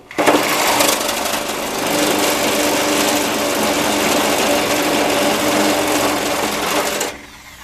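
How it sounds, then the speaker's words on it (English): A power tool cuts through a seized bolt on a Cub Cadet 42-inch snowblower, a steady, loud high-pitched whine running about seven seconds before stopping abruptly. "so I'm going to try to cut it off"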